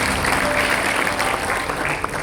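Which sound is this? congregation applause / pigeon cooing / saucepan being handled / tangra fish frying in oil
congregation applause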